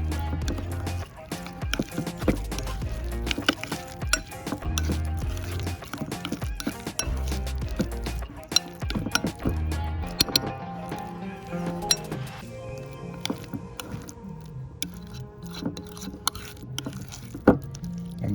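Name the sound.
mixing guacamole ingredients in a bowl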